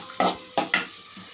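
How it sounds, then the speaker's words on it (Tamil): Spatula scrapes and stirs onions sautéing in a pan, three or four short strokes, with a faint sizzle underneath; no talking. "அதனால் நான் இப்போ வதக்கி தான் சேர்த்துக்க போகிறேன்."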